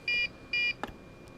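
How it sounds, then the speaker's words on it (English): Two short electronic beeps from a Heli-Max 1Si quadcopter transmitter, evenly spaced and fairly loud, followed by a faint click in quiet surroundings. "When it starts beeping"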